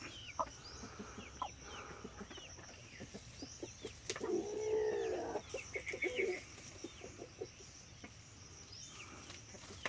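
Rhode Island Red chickens on a farm, soft clucks and murmuring calls scattered over a quiet outdoor background, with one longer, louder drawn-out call in the middle.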